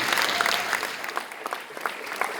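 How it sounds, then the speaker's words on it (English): Audience applause at a boys' barbershop choir championship awards ceremony for newly crowned world champions, a steady wash of many hands clapping fairly far off with no voices. "A round of applause, ladies and gentlemen, for Mr. Almeida."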